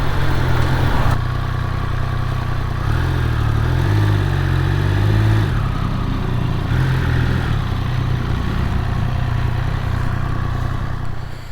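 A 2022 Triumph Speed Triple 1200 RR motorcycle engine runs steadily near at hand, a loud continuous idle-like drone with slight swells in revs, and no talking over it.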